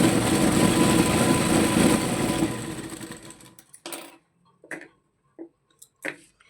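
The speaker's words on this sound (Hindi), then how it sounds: "और अब हम इस किनारी पे भी एक बारीक सिलाई लगा लेंगे।" A sewing machine runs continuously for about three seconds, stitching a fine seam along a fabric edge for a baby frock, then winds down and stops, followed by a few faint clicks and handling sounds.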